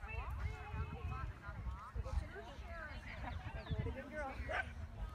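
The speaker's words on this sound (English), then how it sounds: "barking now" A dog barks repeatedly in quick, irregular bursts, fairly close, while people talk throughout.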